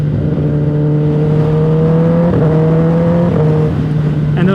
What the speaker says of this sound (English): those like upshifts with that little crack just sounds so good